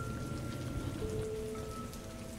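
Heavy rain pours down in a steady, dense hiss on surfaces, continuous and enveloping, with faint tonal hums underneath and no voices.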